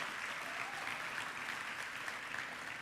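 A church congregation applauds during a Holy Communion service. The clapping is dense, steady and sustained throughout, with many hands together filling the hall and no voices standing out.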